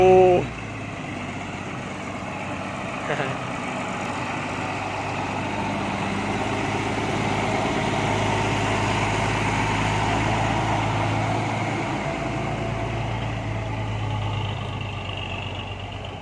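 A Ford 7610 tractor fitted with an air-conditioned cab idles in a steady, fairly close low engine rumble that holds evenly throughout after a brief louder knock at the start.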